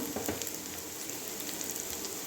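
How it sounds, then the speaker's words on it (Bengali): Ground cumin and coriander spices frying with moong lentils in a pan, giving a steady, close sizzle and crackle throughout, with no voices. "ফার্স্টে একটু মশলাটাও ভেজে নেবো ডালের সঙ্গে"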